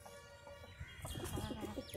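Low, soft clucking from a hen close by, a string of short throaty notes with faint rustling and background ambience.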